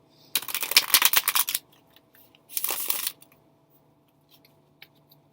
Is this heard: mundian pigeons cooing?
no